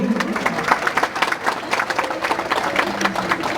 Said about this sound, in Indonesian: Apresiasi, tepuk tangan untuk ASTI.